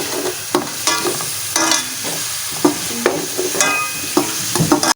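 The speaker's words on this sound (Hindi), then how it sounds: "उसी घी में मैंने ये प्याज डाले हैं। इसको मैंने ब्राउन करना है।" Onions browning in ghee for a fish curry sizzle steadily while a spoon stirs and scrapes the pan in repeated clattering strokes, close and fairly loud.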